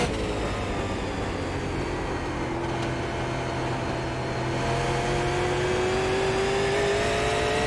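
Race car engine of a Super Late Model in the iRacing sim at Nashville Fairgrounds Speedway, droning steadily and loud with rising pitch as it revs through a lap, continuous with no talk.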